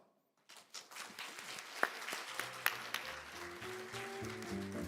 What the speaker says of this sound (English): Please give a big hand of applause.